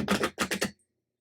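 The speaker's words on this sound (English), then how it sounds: "One more shuffle." Tarot cards being shuffled by hand, a few quick riffling bursts close by, then silence.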